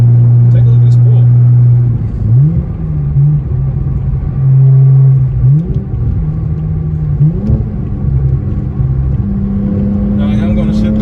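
A BMW E90 with an aftermarket blow-off valve and charge pipe makes loud wide-open-throttle pulls, its engine note climbing and dropping through several rising sweeps, with a brief hiss near the end.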